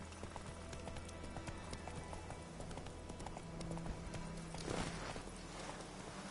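Roach the horse galloping in The Witcher 3, a rapid rhythmic clip-clop of hooves carrying on under game ambience, with a brief louder swell near the end.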